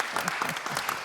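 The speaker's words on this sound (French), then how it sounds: "on va tous applaudir Joël alors" A small group applauds Joël at an event about making a champion, a short burst of steady clapping with voices mixed in underneath.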